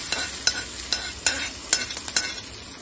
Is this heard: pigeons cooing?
no